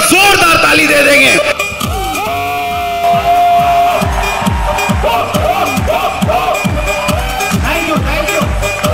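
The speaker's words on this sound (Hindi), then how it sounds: "एक बार चाहते हैं कि आप लोग अपने लिए एक बार जोरदार ताली दे देंगे।" An audience at a motivational talk in Patna claps and cheers loudly: a dense roar of clapping with shouts and whoops, plus repeated rising whistle-like cries and rhythmic chants pulsing over the crowd for nearly nine seconds.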